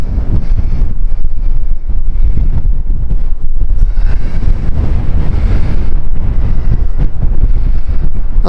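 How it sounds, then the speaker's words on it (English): Strong, blustery wind buffets the microphone on a seaside cliff top near a caravan park, a loud, continuous roar with gusts that rise and fall. "It's a bit blustery"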